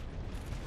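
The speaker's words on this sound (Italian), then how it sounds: "eccola l'esplosione, ora l'ha fatta" An explosion in the video game Dark Souls: a short, dense burst of booming rumble that fills the moment loudly, with no voices over it.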